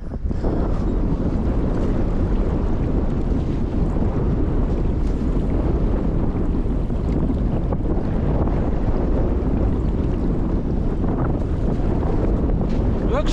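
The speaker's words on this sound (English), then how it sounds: "pretty windy out today, though, a little bit murky" Strong wind at Bolsa Chica, Huntington Beach, buffeting the microphone in a constant loud roar with surf beneath, steady throughout with no break.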